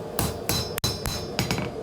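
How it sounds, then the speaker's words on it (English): Hammer blows land on a hot Damascus steel knife guard during forging, several sharp metallic strikes spaced unevenly about a third of a second apart, loud and close with a brief gap in the middle. "I'll put it in the post vise and just smash it down that direction."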